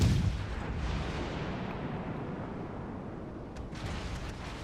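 Naval gunfire in World of Warships Legends, a deep booming blast at the start that rolls into a long low rumbling tail of distant explosions, loud at first and fading.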